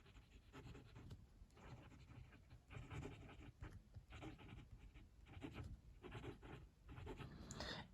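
A Lamy 2000 stainless steel fountain pen writing on paper, with soft continuous scratchy nib strokes in short irregular runs, very faint and close with no speech.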